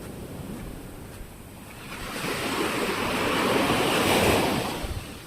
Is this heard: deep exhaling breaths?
no